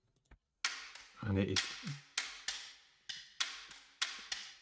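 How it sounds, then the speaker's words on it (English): A high, clicky percussion loop from a light-tension TV and film music cue ticks in sharp, evenly spaced hits, with a brief spoken voice early on. "that clicky loop."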